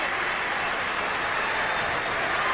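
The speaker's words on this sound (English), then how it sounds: "the crowd gives the Celtics an ovation" A basketball arena crowd gives the Boston Celtics an ovation at a 1990 playoff game against the New York Knicks, with dense, steady applause filling the space and a faint murmur of voices beneath.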